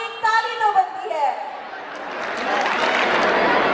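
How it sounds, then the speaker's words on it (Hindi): Audience at a school annual day breaking into applause, a dense clapping wash that swells and holds to the end, after a short stretch of a voice speaking over the hall. "आपकी एक ताली तो बनती है"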